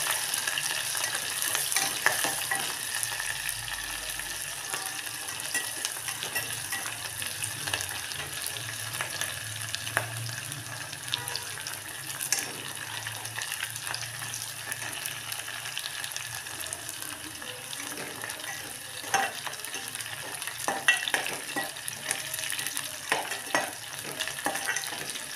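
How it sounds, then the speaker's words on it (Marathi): Onions and green chillies frying in a pan for a spiced rice dish, with a steady close sizzle and crackle and occasional stirring scrapes throughout. "थोडा वेळ कांदे मिरची होऊ देऊ आपण त्याला."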